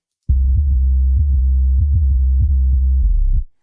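Muffled, bass-heavy tones from the low band output of a multiband plugin pulse in a steady rhythm for about three seconds, the highs stripped away, then cut off abruptly. No voices.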